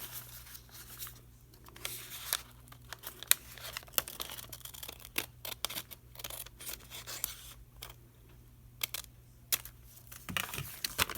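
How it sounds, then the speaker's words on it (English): Scissors cutting paper for a lap book, a close series of sharp, irregular snips and crisp rustles, some quick clusters and some isolated, fairly quiet with a faint steady hum underneath. "then we're going to cut this part off"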